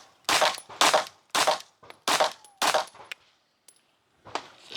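A Springfield Echelon 4.0 pistol fires five sharp, loud shots in a fairly even rhythm, followed by a pause with faint metallic clinks, then one more shot at the end.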